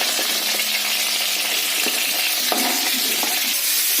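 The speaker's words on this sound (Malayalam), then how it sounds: "2-3 സ്പൂൺ വെളിച്ചെണ്ണ വെച്ച് നന്നായി ചൂടായതിനു ശേഷം ഈ നമ്മൾ വെട്ടി വെച്ചിട്ടുള്ള സവോള, ഇഞ്ചി, ഗാർലിക്, വേപ്പിൻ്റെ എല്ലാം കൂടിയിട്ട് അതിലിട്ടിടാം" Chopped onion, ginger, garlic and neem leaves hit hot coconut oil in a pan, giving a loud continuous sizzle broken by repeated scraping stirs and light clinks of a spoon.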